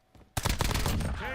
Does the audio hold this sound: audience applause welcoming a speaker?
no